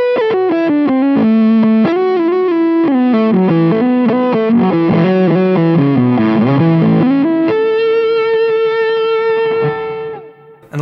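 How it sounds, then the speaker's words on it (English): An electric guitar plays a melodic line with distortion, heard first dry and then with reverb and stereo delay added, the final sustained notes ringing out with trailing echoes. "I'll start with the dry signal, then add the reverb, and then the delay."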